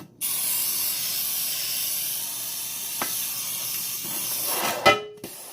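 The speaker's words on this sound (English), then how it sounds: "So spray your pan generously because you do not want this to stick" Nonstick cooking spray of oil and flour from a can hissing steadily onto a baking pan for about five seconds, close and even, ending with a short burst and clatter.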